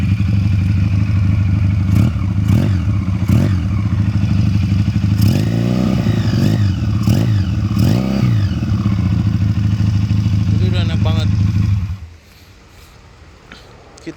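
Regal Raptor Spyder 350 chopper/bobber motorcycle engine running steadily nearby, a loud continuous low idle with repeated throttle blips and revs before it cuts off near the end.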